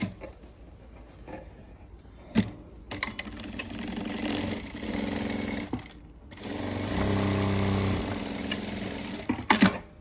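Sewing machine stitching a pocket onto ladies' pants, with two sustained runs of whirring motor stitching separated by pauses, clicks and fabric handling, close and loud, no speech.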